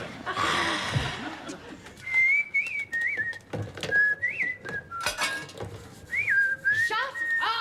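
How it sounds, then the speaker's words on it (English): A person on a boat at sea whistles a short wavering tune in bright separate phrases. Clattering dishes and cutlery and low voices sound through it. "Whistling at sea."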